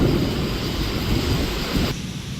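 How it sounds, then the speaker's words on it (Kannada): A thunderstorm over Hubballi-Dharwad brings a loud, dense roar of rain and rumbling that fills the first two seconds, then cuts off sharply to a quieter hiss. "ಹುಬ್ಬಳ್ಳಿ ಧಾರವಾಡ ನಗರದಲ್ಲಿ ಗುಡುಗು ಸಹಿತ ಮಳೆಯಿಂದ ಜನರು ಪರದಾಡಿದ್ರು."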